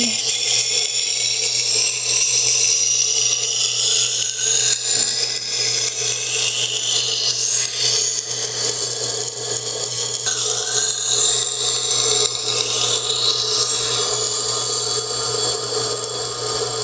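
Kitchen knife sharpened on a Tormek T-1 sharpener, giving a continuous loud abrasive grinding hiss with a steady motor hum beneath and shifting high squeals as the blade moves, without speech.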